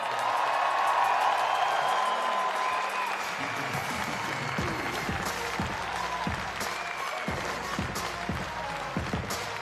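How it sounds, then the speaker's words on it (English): A large audience at the Transplant Games of America opening ceremony applauds the president and CEO onto the stage, dense clapping fading into scattered claps and low crowd noise. "please join me in welcoming to the stage and put a big round of applause the president and CEO of the Transplant Games of America, Mr. Bill Ryan"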